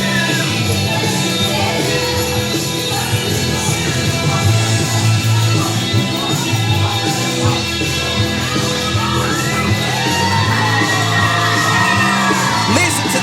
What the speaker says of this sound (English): a huge ovation, huge support for Erika